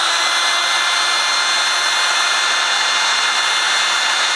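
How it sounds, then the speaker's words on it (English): A heat gun runs close and loud, warming stuck screws on a firearm, giving a constant broadband rushing blast with no pauses and no talking. "So we're going to just grab a heat gun here."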